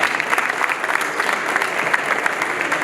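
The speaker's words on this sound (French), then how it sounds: "Voilà, on peut les applaudir, ils ont été exemplaires jusqu'au bout." An audience at an awards ceremony for installers claps steadily, dense and close applause with no one speaking over it.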